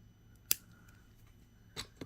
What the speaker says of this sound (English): So now I will cut my extra wire off right here.